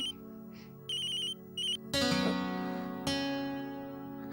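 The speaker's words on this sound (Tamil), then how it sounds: "யாரம்மா ஃபோன் பண்றாங்க? அது அம்மா நிக்கில் கால் பண்றாரு." A phone ringtone sounds for an incoming call in a Tamil TV drama: a few short, bright electronic tone bursts repeat, then a louder, fuller stretch of ringing follows.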